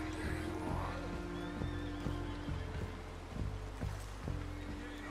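A horse in the Red Dead Redemption 2 video game neighs over a steady bed of game sound. The rhythmic thuds of hooves clip-clop at an even pace throughout, and no speech is heard.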